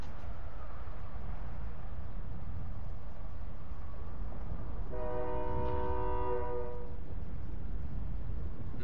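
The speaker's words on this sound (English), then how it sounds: "Nah, that train's empty." A train horn sounds in a Call of Duty game, one steady blast of about two seconds over a constant low rumble of moving rail cars, moderately loud and a little distant.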